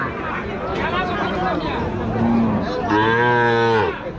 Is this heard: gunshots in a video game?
no